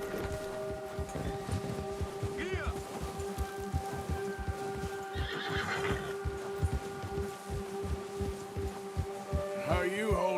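A horse in Red Dead Redemption 2 snorts and whinnies over a rhythmic clip-clop of hooves, with a steady low hum running underneath throughout.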